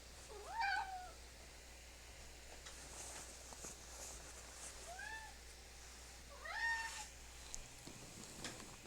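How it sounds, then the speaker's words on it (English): A cat meows three times with pauses between calls, the first and last louder and more drawn out, close by in a quiet room. "What do you want, cat?"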